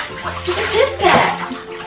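Water splashes and sloshes in a tub as a domestic cat is bathed during grooming, with short surging pours close by and voices talking over the washing.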